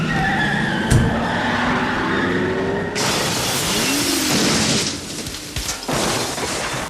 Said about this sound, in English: he kicks the car off the jack, through the back window of the garage